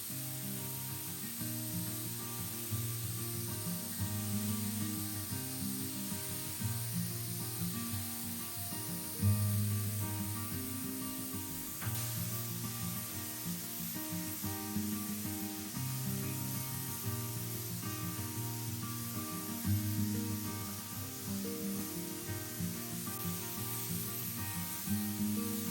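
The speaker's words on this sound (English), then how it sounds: "So I'm going to filter this into my pneumatic sprayer and apply the first of probably 3 coats." A pneumatic sprayer hisses steadily as it lays a coat of finish on an old wooden washstand, the spray coming in repeated even passes with brief pauses and a constant compressor drone underneath.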